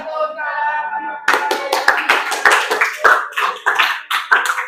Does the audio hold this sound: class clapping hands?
yes